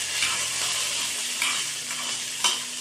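Bottle gourd, beans and chillies stir-frying in oil, giving a continuous close sizzle with a few soft scraping stirs and light utensil knocks spaced through it.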